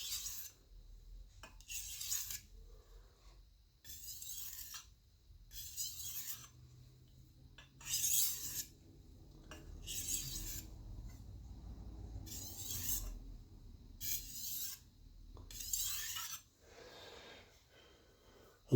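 A chef's knife is drawn across a sharpening stone in light, even strokes to clear the burr, roughly a dozen regular rasping passes a second or so apart, close up over faint background hiss and breathing.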